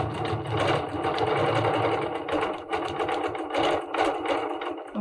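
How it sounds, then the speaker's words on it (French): A Bernina Q16/Q20 longarm quilting machine stitching in BSR mode, with a fast continuous mechanical whir and steady stitching rhythm that dips briefly a few times, close and loud without talk. "la machine ne s'arrête pas de quilter quand vous ne bougez plus le tissu"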